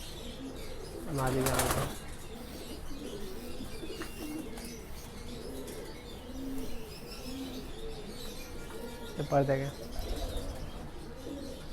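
Kale chapdar pigeons from a single-breed collection coo in soft repeated rolls nearby, with someone talking over them and occasional wing flutters or handling bursts.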